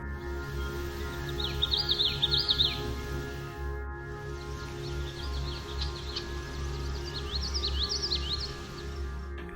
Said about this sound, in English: We also heard the common yellowthroat song, which is often described as sounding like witchity,